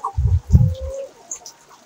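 Hens on a small poultry farm raising egg-laying chickens: two or three short, close clucks in quick succession followed by a thin, drawn-out call and faint chirps, with no talking.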